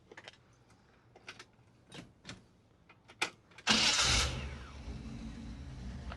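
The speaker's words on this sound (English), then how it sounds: "Let's go ahead and run the engine." A 1955 Chevrolet Bel Air with an electric fuel pump: a few scattered clicks and knocks, then the engine cranks and catches at once with a loud burst before settling into a steady, rumbling idle.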